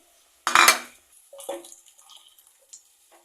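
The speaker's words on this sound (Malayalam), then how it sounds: "മിക്സ് ചെയ്തു ആ പുളിയുടെ വെള്ളവും എല്ലാം കൂടെ അതിനകത്ത് മിക്സ് ചെയ്തു" Tamarind water is mixed into fish curry in a clay pot: one loud clattering knock of a utensil, then a string of quieter scrapes, clinks and small liquid sounds trailing off.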